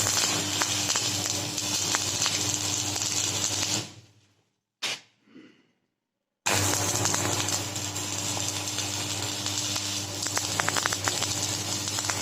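Arc welding on metal, running a full weld along one side: a loud, steady crackling hiss that cuts out for about two seconds midway, then resumes just as strongly, with no talking.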